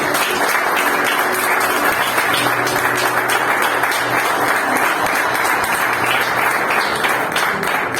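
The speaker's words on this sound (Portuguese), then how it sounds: "você pode começar esse culto dando uma belíssima salva de palmas para o Senhor" Congregation at a Portuguese-language church service gives sustained, dense applause for several seconds, loud and steady throughout, with a faint voice underneath.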